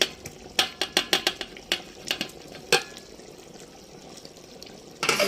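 Half-cooked beef is stirred together with fried onions and potatoes in a pot for beef biryani, giving a run of quick, sharp scraping clicks and splashes near the start, then quieter wet shuffling and a final burst of stirring.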